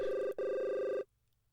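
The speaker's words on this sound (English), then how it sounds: "Was that a phone ringing?" A telephone rings with a steady electronic bell tone, a brief gap splitting it into two bursts before it cuts off into near silence; loud and close, no voices.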